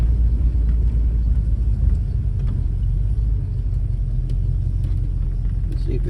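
Ford Falcon V8 car engine idling and running in gear during an automatic shift test, a steady, loud low rumble throughout with no clear gear-change events.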